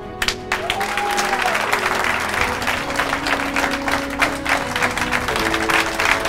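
Audience applause filling a conference hall at the close of a personal-development talk, steady dense clapping that holds for several seconds, with a faint voice and some tonal background sound underneath.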